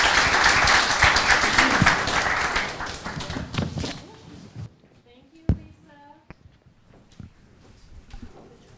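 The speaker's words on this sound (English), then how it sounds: "So I'd like to have everybody give a round of applause to our panel" Loud applause from a symposium audience for a discussion panel, dense clapping for about four seconds before fading into scattered claps, footsteps and light room noise.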